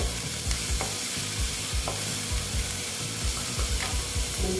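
Grated garlic frying in hot oil for a bhindi dish, a dense continuous sizzle with rhythmic spatula strokes scraping the pan, close and without talk.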